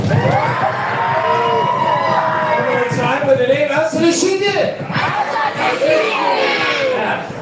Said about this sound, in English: A little bit of stomping. A little bit of banging. A little bit of cheering.